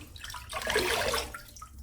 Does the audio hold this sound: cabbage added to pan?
no